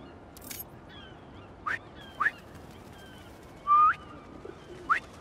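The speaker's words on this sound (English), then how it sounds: "Try a whistle." Short whistles in the Spider-Man 2 video game, several brief chirpy calls spaced over a soft ambient background, fairly faint with one louder, longer whistle near the middle.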